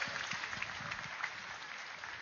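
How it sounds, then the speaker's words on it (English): Light, distant applause rises from the audience at a meditation summit in India as thanks for the organizing team, scattered claps over a faint, band-limited background. "So another round of applause for the entire team of Pyramid Valley and Soul Nest."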